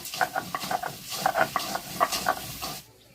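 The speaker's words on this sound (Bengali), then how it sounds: "কাঁচা কলা ও বরবটিটাকে আরও চার থেকে পাঁচ মিনিট নেড়ে চেড়ে ভেজে নেব" Raw banana and long beans being stir-fried in a pan at home, giving a run of quick scraping stirs and clatters over a low sizzle, steady and close, ending in quiet.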